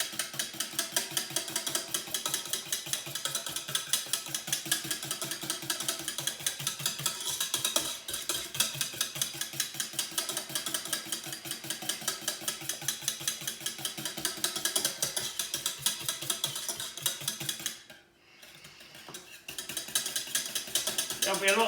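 A whisk beats eggs and cream in a bowl for scrambled egg, clicking quickly and evenly against the sides, pausing briefly before the rapid whisking starts again.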